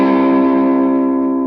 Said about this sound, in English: you can set your gain up like this so that you've got that distortion